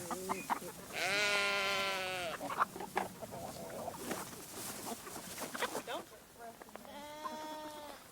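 Goat bleats ring out over the course of the clip, with people talking between and around them at close range.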